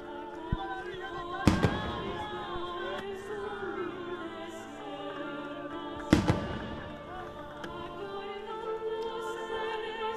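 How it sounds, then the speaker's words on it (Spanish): Fireworks burst in the sky over La Laguna during a religious festival procession, with two loud sharp booms standing out above a continuous crackling, rumbling backdrop of distant explosions. "Los fuegos en el aire, los fuegos en este cielo de la Laguna."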